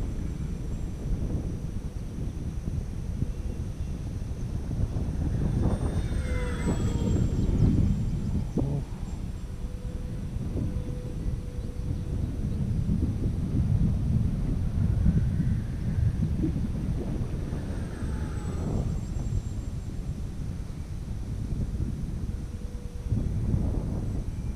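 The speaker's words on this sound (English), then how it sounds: "It's getting a little bit more breezy out." Breezy outdoor wind rumbles and buffets steadily at a flying field where a Durafly EFX Racer model plane is being flown, with the faint whine of the plane passing at times.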